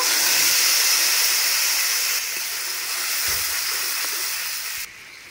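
Ground spice paste hits hot oil in a pan used for frying eggplant, releasing a loud, broad steamy hiss that eases slightly midway and then drops off sharply.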